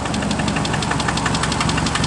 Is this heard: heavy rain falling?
no